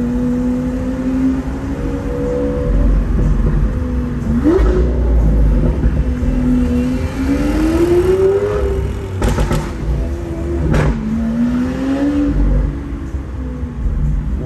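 A Lamborghini Aventador S with a V12 engine revs on a city street, its roar climbing and falling through several loud throttle blips, with sharp pops and crackles between them and no talk.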